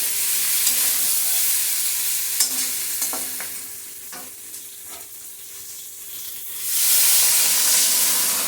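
Water poured into a hot frying pan with eggs sizzles steadily with a broad hiss and light stirring scrapes, then swells into a louder burst of steam near the end.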